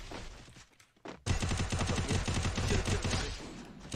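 A loud, rapid burst of gunfire in a video game erupts after a brief lull, shots rattling off in quick succession with a dense, punchy sound.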